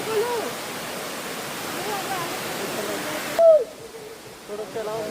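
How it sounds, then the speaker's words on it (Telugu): Elephant Falls in Meghalaya, water tumbling over rock layers as a loud, steady broadband rush that cuts off abruptly partway through, with a voice speaking over it. "అక్కడి నుంచి వాటర్ ఇలా పడి ఇంకో లేయర్తో ఇంకా ఇలా వెళ్తాయి అన్నమాట కిందకి"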